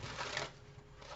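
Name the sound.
shuffling tarot cards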